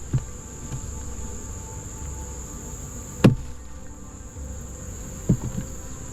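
A steady honeybee buzz hums continuously around an open hive during inspection, broken by a couple of sharp knocks.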